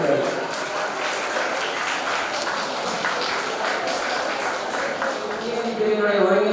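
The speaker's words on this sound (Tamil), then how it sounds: "அவருக்காண்டி ஒரு சிறப்பான கைத்தட்டல்" Audience applause at a consumer rights day ceremony, a steady, dense wash of clapping that runs the whole time and swells slightly near the end.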